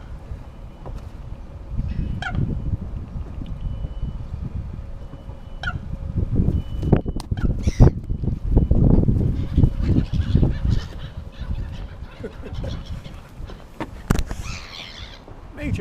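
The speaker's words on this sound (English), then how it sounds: "Major seagull fight over there." Seagulls squabble over bread near ducks by a boat, with harsh overlapping honking cries and squawks coming in bursts, some close and loud, over a continuous low rumble of wind or water.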